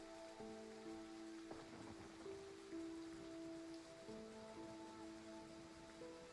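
Pouring rain in the Neural Cloud game: a steady, quiet hiss of rainfall running throughout, underneath sustained tonal music notes.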